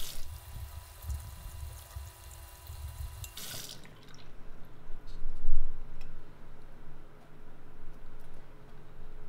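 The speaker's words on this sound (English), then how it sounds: "turn on the sink and wash your hands with water for 20 seconds" Hands are washed under running tap water at a sink, a steady rushing stream with a sharp change partway through and splashing that swells and fades, alone without talk.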